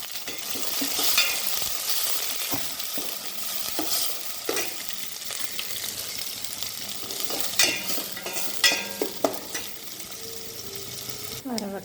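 Onions frying in oil with curry leaves and mustard seeds for upma, a steady close sizzle with intermittent spatula scrapes and small pops, busier toward the end.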